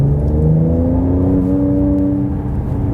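Mercedes C43 AMG C-Class facelift engine in Sport Plus mode, a steady loud revving drone with a rising pitch that holds without a break.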